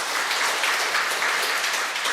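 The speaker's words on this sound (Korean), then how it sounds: "박수 쳐주세요." A catechism class claps together in a steady, moderately loud patter of many hands that continues evenly for about two seconds, with no voices heard.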